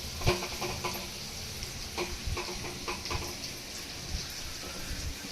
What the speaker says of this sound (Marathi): जास्त वेळ लागत नाही हे मासे फ्राय करायला